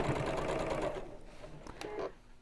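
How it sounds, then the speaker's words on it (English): Sewing machine stitching a bolster cushion cover, its motor running in a fast steady burst that slows and stops, followed by a few faint clicks and a short whir, close and moderately loud. "we'll sew this together, leaving again quite a large turning gap."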